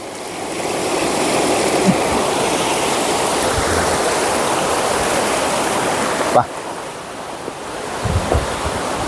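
A canal stream flowing in the open, a steady broadband wash of running water throughout with a few faint knocks and a brief thump near the end.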